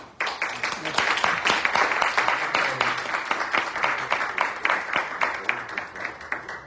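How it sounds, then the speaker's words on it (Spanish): Audience applause welcoming a rabbi before a lecture in Málaga, a sustained round of many hands clapping at moderate loudness, fading slightly toward the end. "Vamos a recibirle con un fuerte aplauso"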